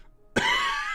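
A single sharp throat-clearing cough bursts out after a moment of quiet, close and fairly loud, with a brief ringing tail and no talk.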